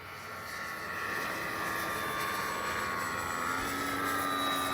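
A Dynam BF-109 RC warbird model plane flies overhead, its propeller and electric motor giving a steady, fairly loud drone that holds throughout with slight pitch shifts as it maneuvers.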